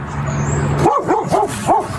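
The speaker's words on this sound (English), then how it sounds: "That's Officer Josh Thompson responding to a dog that seemed to have something important to say" A dog barking in a street setting during a police response, four loud, close barks in quick succession following a stretch of quieter background hum.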